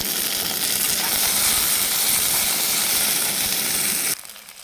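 Tomato goes into onions frying in a wok with dried chilli, raising a loud, dense steamy sizzle that holds steady at close range, then cuts off abruptly near the end.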